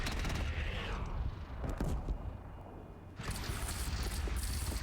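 Explosive grenade shells fire and burst in Horizon Zero Dawn, a loud close run of booming blasts with a brief lull before another heavy volley.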